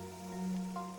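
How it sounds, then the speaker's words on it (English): Steady rain falls in the video game Master Detective Archives: Rain Code Plus, a soft continuous patter beneath a low sustained musical drone, faint and even with no voices. "The rain, it never stops."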